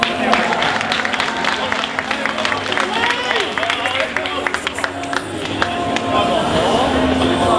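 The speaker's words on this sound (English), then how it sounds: "A big round of applause" A cosplay show crowd at DreamHack Winter applauds a Skull Kid cosplayer, with scattered sharp claps over crowd babble and some voices, rising louder again near the end.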